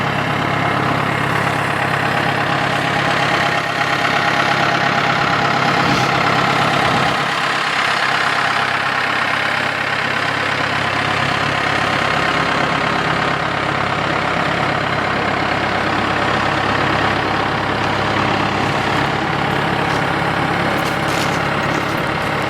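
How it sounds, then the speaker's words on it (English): A skid loader's diesel engine idles steadily at a stump grinding job, a loud, continuous mid-to-low engine drone that dips briefly partway through and then carries on without speech. "we're going to push it over with the skid loader here"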